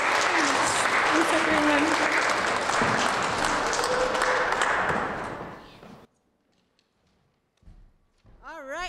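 An audience applauds a performer at a live stage show, a dense, loud wash of clapping lasting about six seconds before it fades, followed by someone speaking briefly.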